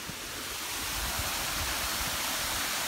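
Stream water on the Appalachian Trail flowing steadily into a deep pool, a continuous close rushing wash with no pauses and no voices.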